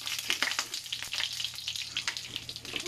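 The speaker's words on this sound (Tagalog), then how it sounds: "Mabilis lang maluto pagka mainit ang mantika." Espada fish frying in hot cooking oil for breakfast, a steady dense crackling sizzle with sharp popping spatters throughout, close and continuous.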